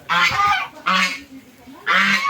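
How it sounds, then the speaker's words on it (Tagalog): A goose honks three times, loud and close, with short brassy calls separated by brief pauses. "Oh, may gansa pa."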